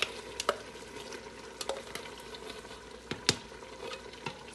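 A spoon stirs ground meat and baked beans in a pot, giving soft scraping strokes and occasional sharp knocks against the pot over a steady low sizzle, close and fairly quiet with no talking.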